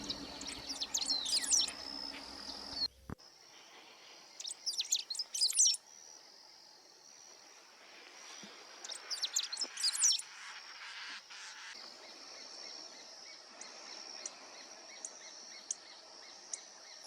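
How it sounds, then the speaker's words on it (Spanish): Several birds give short, high chirping calls in clustered bursts at dusk in Lihué Calel, a quiet open landscape, with faint insect trilling and long near-silent gaps between calls. "Algunos pájaros ya estaban regresando antes de llegar la noche."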